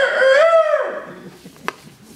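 A rooster crows once, loud and close, its call bending up and then trailing off, followed by a brief faint click.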